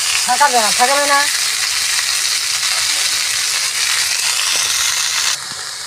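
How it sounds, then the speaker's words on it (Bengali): Boiled drumstick leaves dropped into a panch phoron tempering in hot oil, a loud, close, sustained sizzle that drops slightly at the very end, with a brief tonal, voice-like sound near the start. "ফোড়নটা ভাজা হয়ে গেলে আমি ওর মধ্যে দিয়ে দেবো ছেঁকে রাখা সজনে পাতাগুলো"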